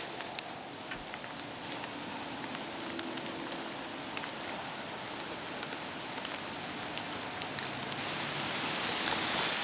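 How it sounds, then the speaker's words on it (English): Steady rain patters on surfaces with a constant wash of wind-like noise and scattered drop ticks, continuing for the whole stretch, before dawn at a Michigan bow hunting camp. "Still dark, still raining, still windy."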